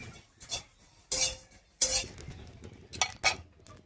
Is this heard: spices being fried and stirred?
yes